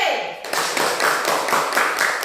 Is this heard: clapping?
yes